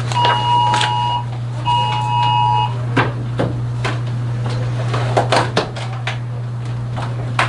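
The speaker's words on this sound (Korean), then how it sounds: "경보인 거야? 재난 경보 그런 거?" A phone's emergency disaster alert sounds twice in short sustained electronic tone bursts, followed by clattering knocks and bumps in a room over a constant low electrical hum.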